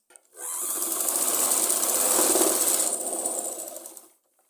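A sewing machine runs a straight stitch on a Punjabi suit salwar in one steady, loud burst lasting about four seconds, starting and stopping cleanly, with no voices.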